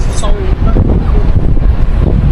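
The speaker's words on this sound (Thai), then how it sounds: "ตอนนี้ลมพัดดีนะฮะ" Wind blows across a street in Sydney's CBD, buffeting the microphone with loud, low, continuous rumbling and gusts.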